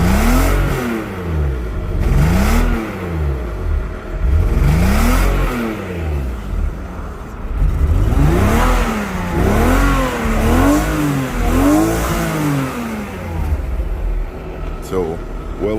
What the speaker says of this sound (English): But the burble still works.